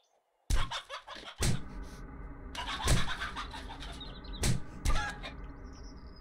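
A chicken in the 7 Days to Die video game, played with the Ravenhearst mod, clucks in a few loud, sharp bursts after a brief silence, with a low engine-like rumble running beneath them.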